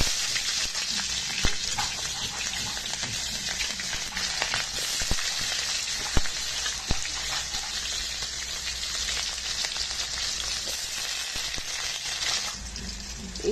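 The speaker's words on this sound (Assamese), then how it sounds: "তেলটো গৰম হ'লে মই পিঁয়াজখিনি ঢালি দিম" Onions fry in hot oil for a local chicken dish, a loud continuous sizzle with occasional clinks and stirring scrapes close by, no talking.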